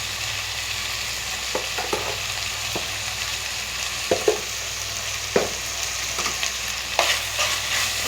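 Tomatoes and onions fry with greens in a pan, salted for a Marathi-style junka, with a steady sizzle and irregular clinks and scrapes of stirring, close and moderately loud.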